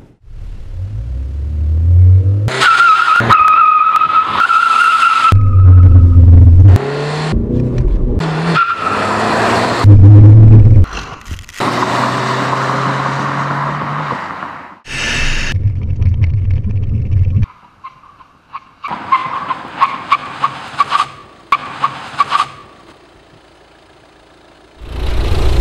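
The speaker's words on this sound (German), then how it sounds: "testen wir jetzt mal die klassischen Fahrwerte 0 auf 100, ein Bremsentest von 100 auf 0 und zu diesem Auto passend auch ein Elchtest." A Volvo V40 D2 runs acceleration, braking and elk-test manoeuvres: surging engine pulls, abrupt cuts and stretches of tire squeal and skidding, loud and close, broken by short near-silent gaps and with no talk.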